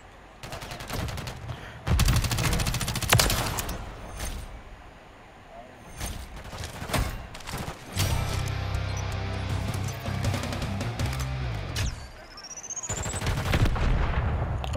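Gunfire in the Call of Duty MW3 multiplayer video game: dense, loud bursts of rapid shots and explosions throughout, with voices over the game sound.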